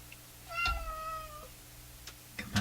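A cat meows once, clearly and close by, with a long drawn-out call, followed by faint clicks and knocks in a quiet room where someone is working on a Hammarlund SP-600 communications receiver.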